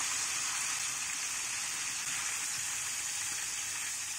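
Whole chicken frying in hot oil, a steady loud broadband sizzle that holds evenly throughout with no talking.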